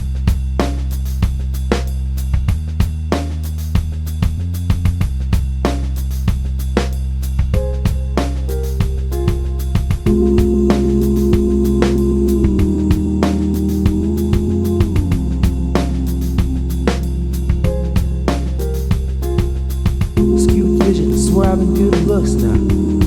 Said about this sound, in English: On the Bento you can take a loop and you can slice it up into